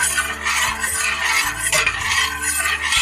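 Dry vermouth is stirred into a hot au jus for a beef sandwich, with a busy scraping and swishing that runs steadily throughout, close up.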